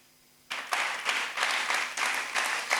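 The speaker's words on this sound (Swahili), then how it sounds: "Mpigie Mungu makofi na sifa" After a quiet start, a church congregation breaks into sustained applause, clapping in steady pulsing waves that stay loud to the end.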